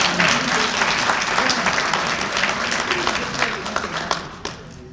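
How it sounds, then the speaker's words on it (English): Loud, dense applause from a large audience at the 2017 Saviours' Day gathering, given as a fresh round for Barack, a continuous roar of many hands that fades slightly toward the end. "Let's give Barack another round of applause"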